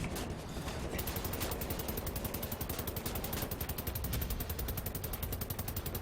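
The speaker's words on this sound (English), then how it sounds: "now let's get on this big gun" Mounted heavy gun in the shooter Wolfenstein: The New Order, firing a sustained automatic burst: loud, rapid, evenly spaced shots that hammer on continuously for several seconds, no voices.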